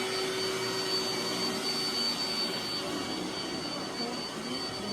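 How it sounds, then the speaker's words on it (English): A Roomba S9 robot vacuum runs with a steady, loud, even whir that holds without a break, close by and alone. "the S9 sounds like a little vacuum cleaner"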